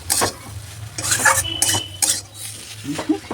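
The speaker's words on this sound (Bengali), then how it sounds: "এটার মধ্যে এরকম নেড়ে নিচ্ছি" A spoon stirs a spring roll vegetable filling with cauliflower in a bowl, making close scraping and clinking strokes in an uneven rhythm, with faint sizzling behind them and no talking.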